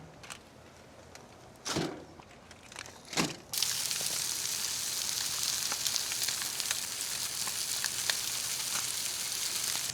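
Fish wrapped in foil pockets cook over hot charcoal briquettes. A couple of soft thumps lead into a steady, loud, bright sizzle with crackles that continues to the end.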